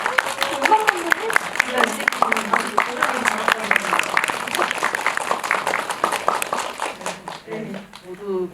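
An audience at a Korean film screening with the director and cast claps together, sharp overlapping hand claps sustained for about seven seconds before fading, and voices take over at the end.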